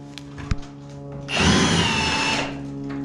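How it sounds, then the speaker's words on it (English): Power drill boring through a metal electrical panel during house wiring, a brief loud whirring burst of about a second after a few faint knocks, then trailing off into quieter room hum. "this is the perfect time to go ahead and drill out the panel"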